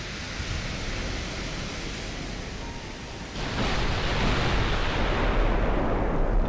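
Naval gun broadside salvo in Ultimate Admiral: Dreadnoughts, heard as a steady roar of broadband rumble that swells louder and denser partway through, with no separate distinct blasts.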